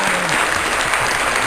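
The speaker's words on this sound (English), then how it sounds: "Desiree Velez, everybody, let's have the clap." Loud audience applause for Desiree Velez at a live show, a dense, steady crowd clapping that fills the whole short stretch.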